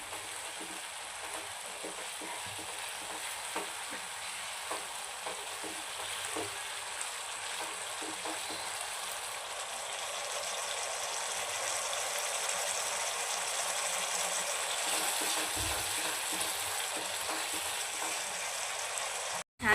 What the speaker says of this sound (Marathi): छान तेल निघेपर्यंत आपल्याला मसाला परतू द्यायचा आहे